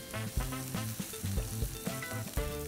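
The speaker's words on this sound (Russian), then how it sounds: "Мне нужен здесь лучок. Отправляю на сковороду." Onion with rosemary and thyme leaves frying in olive oil in a pan, a steady close sizzle with soft crackles and the occasional stir, no voices.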